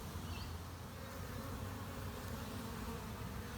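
A swarm of honeybees hums in a dense, continuous drone, caught while being coaxed into a hive box fitted with frames of foundation, fairly faint and steady with no voices.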